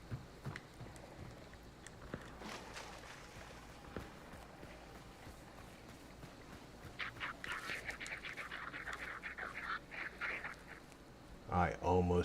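Ducks quacking in the video game Hunt: Showdown, a rapid flurry of nasal quacks rising over low ambient game noise and scattered footsteps, followed by a louder thump at the end.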